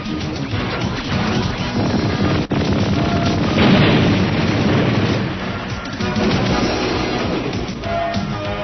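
Winged cannon fire and loud explosions crash over a dense, chaotic background, with a sharp blast partway through and continuous rumbling like a battle.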